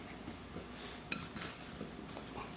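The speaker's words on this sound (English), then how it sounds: "stir these around and see if I can get them covered with olive oil" Potatoes being stirred with olive oil in a pan: soft scraping and light clinks of a utensil against the pan, quiet and close, with one sharper clink partway through.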